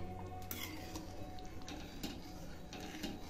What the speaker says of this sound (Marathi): आता हा मिक्स करून घ्यायचा आहे बांगडा